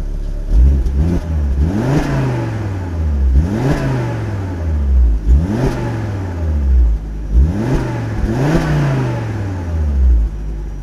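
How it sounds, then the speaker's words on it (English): A Volvo C70 T5 engine with standard exhaust revs repeatedly, about five or six sharp blips that rise and fall in a steady rhythm, close and fairly loud with a mild exhaust note. "Standard exhaust, not quite so exciting, but we'll give it a few revs and see what you think."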